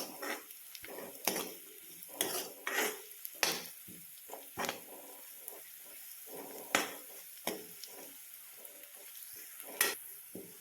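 Onion and a halved green chili stir-fry in a pan, a spatula scraping and clinking in irregular bursts over a steady soft sizzle, close and fairly quiet with no voices.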